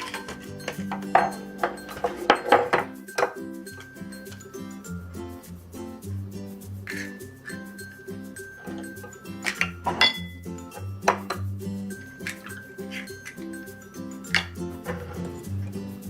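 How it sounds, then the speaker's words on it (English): Two salted eggs cracked against a bowl for steamed minced pork, giving sharp clinks and taps amid dish and utensil clatter, fairly close and quiet with no talk. "And we'll also crack 2 salted eggs."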